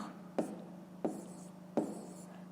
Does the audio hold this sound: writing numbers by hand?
yes